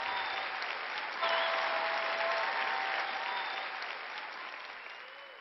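A large audience at a lecture gives a loud burst of sustained applause, a thick steady roar of clapping that holds strongly and then tapers slowly toward the end, with no voices over it.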